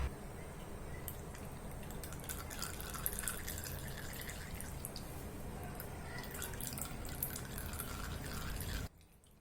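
Amla hair oil dripping and trickling from a cloth wrung by hand, a steady close patter of liquid that runs without a break for about nine seconds and then stops abruptly, with no voices.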